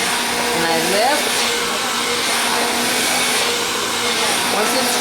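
A hair dryer blows steadily and loudly at close range while a brush is pulled through baby-fine hair, with a continuous airy roar and slight pitch shifts as it moves.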